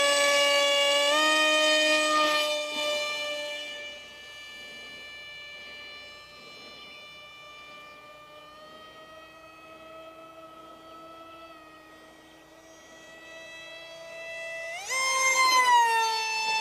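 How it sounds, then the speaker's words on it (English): An RC plane with a GepRC GR2306 2750kv motor spinning a 6x3 EMP prop on 4S flies past, its tonal motor whine loud and near at first, then fading and dipping as it moves off, before surging loud again at the end. "I just want to see what this motor is really capable of, putting it through several flights on 4S."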